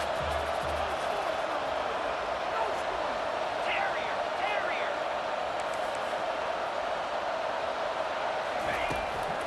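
Steady, dense crowd roar from a stadium in EA Sports College Football 25 on a third down, filling the whole stretch at an even level with faint whistle-like rises in the middle.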